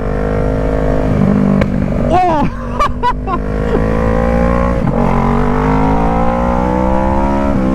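A 2012 Kawasaki ER6N motorcycle engine accelerates loudly up close, its note climbing and shifting through gears, while a rider's short exclamations and wind bursts break in midway.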